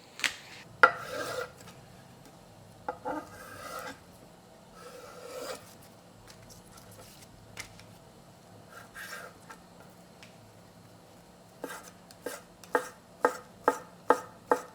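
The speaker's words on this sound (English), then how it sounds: "So, this egg, I'm going to slice this egg." A knife slices a cooked egg garnish for japchae on a cutting board: a few soft scraping cuts early on, a quiet stretch, then a quick run of crisp, evenly spaced chopping knocks near the end.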